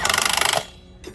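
An impact gun tightens wheel lugs on a potato-harvest tractor, a loud, rapid rattling burst lasting about half a second, then a brief pause and a short second hit.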